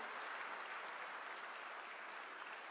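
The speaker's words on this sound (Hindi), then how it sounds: "और एक बार आप सब अपने लिए जोरदार तालियां बजाइए।" Sustained applause from a large audience at a government workshop on the development of Indian animal breeds, a thick, uniform roar of clapping hands that holds at an even level for the whole stretch, with no voices.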